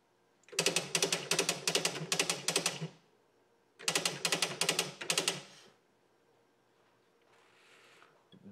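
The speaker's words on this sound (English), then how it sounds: "Type in a few words and I'll show you how nice it looks" Bold print being typed on a Smith Corona DeVille 125 electric typewriter: two quick rapid bursts of dense, even key strikes, each lasting a couple of seconds, close and crisp, separated by a short pause and followed by a faint mechanical whir.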